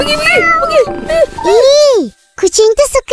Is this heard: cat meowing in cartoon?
yes